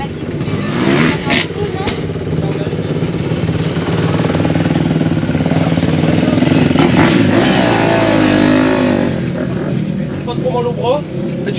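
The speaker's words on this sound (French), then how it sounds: "Il y a déjà quelqu'un qui arrive là, chef. Il y a un moteur." A motocross bike engine on a dirt track drones steadily and loudly for several seconds, rising and shifting as it approaches, with people talking over the engine noise.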